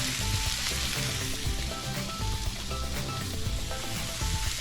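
Breaded fish pan-fries in hot oil on a medium stove, giving a steady, dense sizzle and crackle that stays loud and close throughout without any talking.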